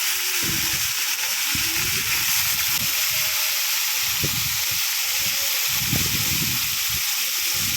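Liver pieces rinsed in water with curry leaves, giving a steady hiss of running or sloshing water with irregular splashy bursts throughout, fairly close, no talk.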